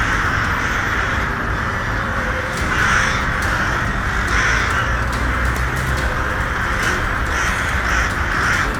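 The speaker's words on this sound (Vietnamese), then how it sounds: "chim bay toán loạn kín khắp bầu trời ở Trung Quốc" A flock of crows caws repeatedly in the sky over Shandong, China, with harsh calls overlapping in irregular bursts above a steady background rush.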